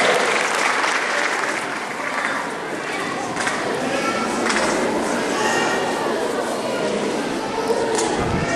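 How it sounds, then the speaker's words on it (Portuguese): Sustained applause from a crowd at a school graduation ceremony, steady and fairly loud for several seconds, with a few voices calling out underneath. "Uma salva de palmas para fazer aí"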